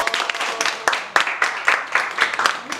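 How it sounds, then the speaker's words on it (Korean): Light, uneven clapping from a small audience at the opening of a youth village reporters' presentation, a few scattered sharp claps over about three seconds. "박수."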